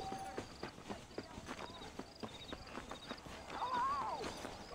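Horse hooves gallop steadily in the Western video game Red Dead Redemption, a rhythmic, continuous clip-clop under faint game ambience.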